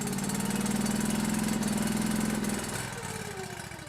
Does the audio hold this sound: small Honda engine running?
yes